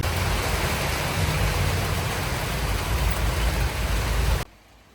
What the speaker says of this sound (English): It just started raining so hard.